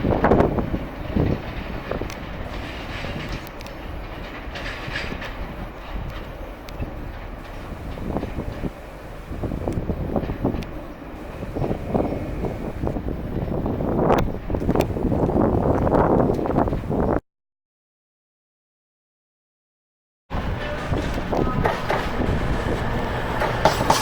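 A Class 91 electric locomotive-hauled train runs from Peterborough to Heaton Depot in North East England, a loud steady rumble with rail clatter and wind noise, cutting out briefly near the end before resuming.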